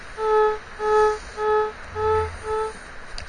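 Five evenly spaced mid-pitched electronic beeps from a metal detector set to pinpoint mode while hunting wet beach sand, each tone clear and steady with short gaps, heard alone with no talking.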